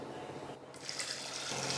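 Water is poured into a pressure cooker while making idli kulambu, a brief soft splashing rush that starts partway through and runs to the end, fairly quiet and close.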